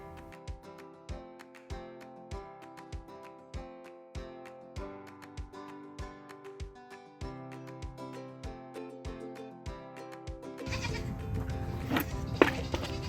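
Goats bleat, ending in a loud, harsh bleat near the end over a steady, rhythmic thumping background.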